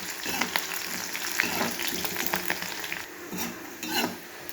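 Bitter gourd (kakarakaya) fries in a pan with a dense, continuous crackling sizzle, broken by repeated scrapes and clinks of a spatula stirring the pieces.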